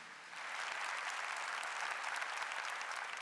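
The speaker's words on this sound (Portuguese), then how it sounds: "a quem eu peço uma salva de palmas" A church audience breaks into applause, starting after a brief quiet moment and then holding as a steady, moderately distant wash of clapping with no speech on top.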